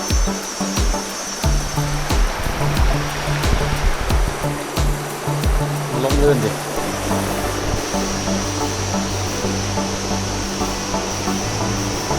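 Water from a natural spring stream at Nam Phut in Chaiyaphum, Thailand flows steadily near a bridge, a continuous broadband rush with a faint engine-like drone beneath it and no talking.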